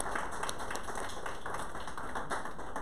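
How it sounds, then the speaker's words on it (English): A round of applause fills a community action board meeting, a steady wash of many hands clapping at moderate volume throughout, with no voices rising above it. "Give her a round of applause."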